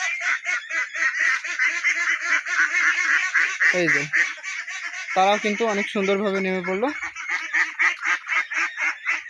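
Khaki Campbell ducks on a river quack loudly and continuously in a dense, overlapping chorus, with a few longer nasal calls standing out, while a person speaks over the flock.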